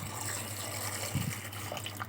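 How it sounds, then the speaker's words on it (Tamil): Water is poured into a vessel over taro roots for cooking, a steady running gush with a brief splashier burst partway through, close and alone without any speech. "அதில் வந்து தண்ணி ஆட் பண்ணிக்கலாம்."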